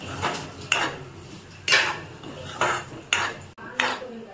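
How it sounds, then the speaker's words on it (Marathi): Semolina roasting in ghee in a pan, stirred with a spatula: six distinct scraping strokes come at a steady, unhurried rhythm, close and moderately loud, with no talking. "त्याच तुपामध्ये मी रवा भाजून घेते"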